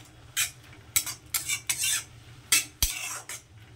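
Jute leaves being mixed with a little water in a pan, heard as a close series of separate scraping and clattering strokes from a spoon, roughly eight bursts with quiet gaps between them.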